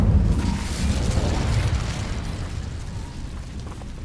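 Incendio fire spell cast in Hogwarts Legacy, a deep booming burst of flame that swells at the start and then rumbles on steadily, loud and close, with no voices.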